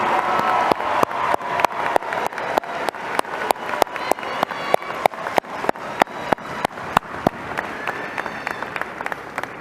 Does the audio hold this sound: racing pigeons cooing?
no